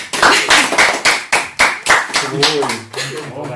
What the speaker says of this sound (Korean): 이 박수 소리 합성 아니에요.